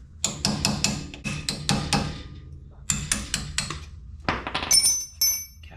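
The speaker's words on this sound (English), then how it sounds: "First off, we're gonna take the cap off." Dust cap tapped off a Chevrolet C10 wheel hub during a six-lug conversion and bearing job: a series of sharp metallic clinks and knocks in quick bursts, close and fairly loud, with short pauses between groups.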